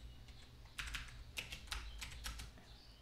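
Quick bursts of typing on a computer keyboard, a few clustered keystrokes close by and quiet, with no talking.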